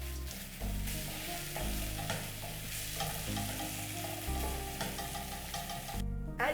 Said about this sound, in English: You can use the back of your spatula to crush the tomatoes.